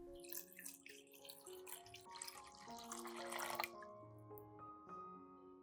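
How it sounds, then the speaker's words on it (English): Water pours steadily into a pot, a continuous splashing trickle with rising tones as the vessel fills, fairly quiet and close. "Then add about 500 milliliters of clean water."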